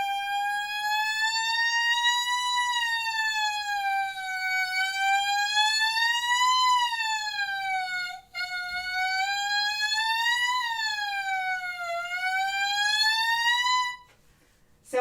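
An oboe reed played alone in a siren warm-up exercise, a loud continuous tone whose pitch repeatedly glides up and down like a wailing siren, with one brief break near the middle.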